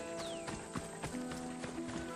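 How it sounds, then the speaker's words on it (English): Horse hooves pound at a gallop in the ancient Greek action game Assassin's Creed Odyssey, short regular thuds over a busy game soundtrack with steady tonal music. "He's definitely riding a horse."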